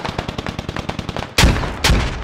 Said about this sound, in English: More grenades come through.